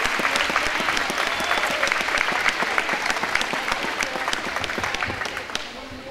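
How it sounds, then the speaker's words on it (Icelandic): A crowd at the Akranes athlete-of-the-year ceremony claps steadily for a group, dense applause with sharp individual claps standing out, fading slightly at the close. "Og þá skulum við gefa þessum frábæra hópi gott klapp"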